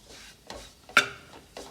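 Food roasting in ghee in a pan over a low flame, with a few soft scrapes and stirring strokes and one sharper clink of a utensil against the pan, quiet and close.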